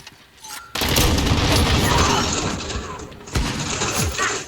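Loud, dense burst of video game gunfire in Call of Duty erupts after a quiet start, sustained and crackling, then a second heavy blast near the end.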